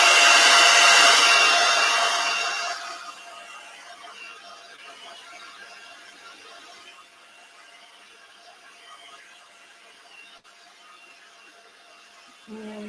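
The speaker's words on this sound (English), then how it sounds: "the dreaded hairdryer is going back on just for a minute now" A hair dryer drying a layer of a gel print blows loudly at first, then drops to a lower, steady hum that continues for the rest of the time.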